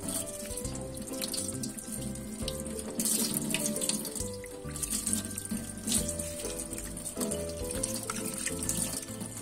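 Cold water runs steadily from a kitchen tap during ice-cream making, a constant splashing gush that stays close and even throughout, with no voices.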